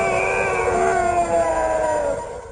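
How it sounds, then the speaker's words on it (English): A long wailing, guttural howl attributed to Bigfoot, a loud sustained drawn-out cry with a slowly falling pitch that carries right through and tapers slightly at the end. "it let out with a wailing, guttural howl"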